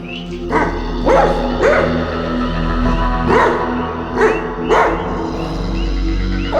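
A dog in a horror story set in a cursed forest barks again and again, about six sharp, evenly spaced barks over a low, droning background, with no talking.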